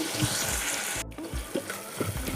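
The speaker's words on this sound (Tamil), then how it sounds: "தக்காளி ஒரு 2 நிமிஷம் நல்லா வதங்கட்டும்." Chopped tomatoes sauté in a pan for hotel-style mutton salna, giving a steady close sizzle with light scraping and stirring sounds, a brief dropout near the middle, and no talking.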